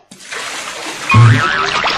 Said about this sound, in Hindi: किसने पानी डाला रे अबे बाल्टी मेरे हाथ में है तो मैं डालूंगा ना पानी